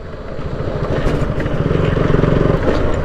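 KTM motorcycle engine running steadily while leaning through a bend on a city road, a close, loud, continuous buzzing drone with slight rises in intensity and no speech.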